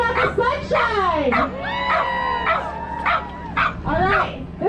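An excited puppy at the start of a trail race yips, whimpers and barks in a rapid string of close, high, squeaky bursts, with its whines rising and falling between them.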